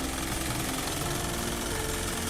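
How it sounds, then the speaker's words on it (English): An Isuzu Elf truck's common rail diesel engine runs steadily with slight vibration, a dense, continuous close-up rumble and clatter with no pauses or talk. "Little bit of vibration. This is mostly common for a common rail engine of"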